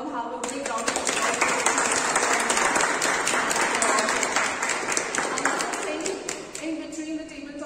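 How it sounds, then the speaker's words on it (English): Applause fills a meeting room, with an audience clapping steadily and loudly for several seconds before it begins to thin out toward the end. "Can we all have a big round of applause?"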